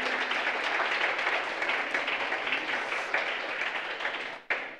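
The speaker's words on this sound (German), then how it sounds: "bedanke ich mich erstmal ganz herzlich bei unserem Panel und bitte um einen großen Applaus." Audience applause for a discussion panel at a careers day event, a sustained dense wash of clapping from many hands that holds steady, then fades briefly near the end before a final burst.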